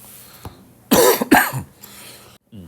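Two sharp, loud coughs close to the mic, with a quieter breathy sound before and a brief voice afterward.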